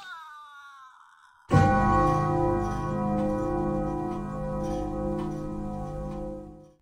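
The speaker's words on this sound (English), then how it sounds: "In sound, search and select Dark Bell. Compile, save, and press play. Now the death sound is set." A dark, low bell sounds once as a death sound effect in an Unreal Engine 5 game, striking loudly after a brief higher tone and ringing on with a long, sustained decay for several seconds.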